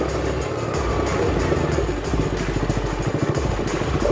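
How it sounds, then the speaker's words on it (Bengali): A motorcycle engine idles close by with a steady, throbbing rumble that runs unbroken and fairly loud throughout. "একবার ওয়েট করো আমি বিশালকে একবার ফোন করি বাইকটা অফ করি"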